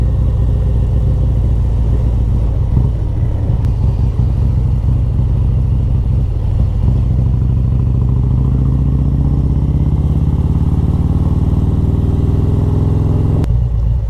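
A Harley-Davidson Road Glide motorcycle cruises along Las Olas and A1A, its engine a continuous, close, loud low rumble with a gradual rising drone as it accelerates, with no talk.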